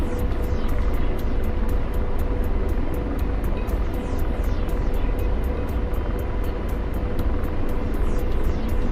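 A video game helicopter hovers in a loud constant engine whine with rhythmic rotor chopping beating through it, close and unbroken throughout, with a faint player voice at moments.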